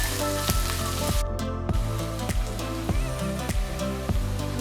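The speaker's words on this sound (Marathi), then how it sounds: "हे पहा आता आपले कांदे थोडेसे फ्राय झालेले आहेत।" Chopped onions frying in a pan while making South Indian sambar give a steady close sizzle with repeated stirring clanks and scrapes, no talking over it.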